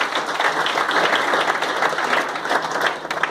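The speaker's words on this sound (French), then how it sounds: "We clap for the Lord." Church congregation applauding for the Lord during a worship service, a dense, steady wash of many hands clapping at close range throughout, with a few faint voices mixed in.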